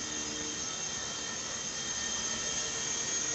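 A Syma S800G 4-channel coaxial RC helicopter flies forward through a bank turn, giving a steady, fairly loud high-pitched rotor and motor whine that holds evenly throughout with no talk.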